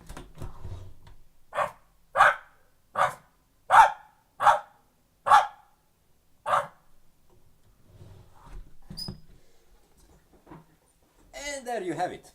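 A man imitates a dog barking with a run of seven or eight sharp, evenly spaced woofs, close and loud, followed by quieter mumbling and a short spoken phrase at the end.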